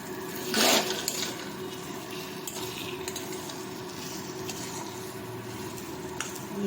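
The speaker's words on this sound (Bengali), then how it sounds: "দিয়ে হালকা করে একটু নেড়ে দেবেন" Rohu fish in poppy seed paste is stirred gently in a pan with a little sugar. There is a brief, louder scrape of the spatula early on, then a quiet, steady sizzle with faint clinks, and no talking.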